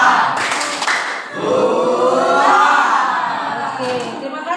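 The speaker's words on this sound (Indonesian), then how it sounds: "Coba pimpin kawannya tepuk semangat." A classroom group of children follows a girl leading a spirit clap, chanting loudly together in rhythmic shouts mixed with clapping and excited cheering.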